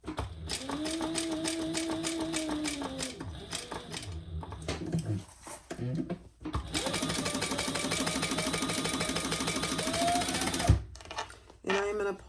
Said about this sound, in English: we're going to stitch around the outside.